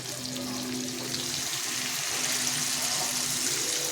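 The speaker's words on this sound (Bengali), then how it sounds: "এবার দিয়ে দেবো আমি জলটা, যে গরম জলটা রেখেছিলাম।" Hot water poured into a pan of fish cooking in oil, a continuous close rushing pour mixed with bubbling and sizzle, steady and fairly loud throughout.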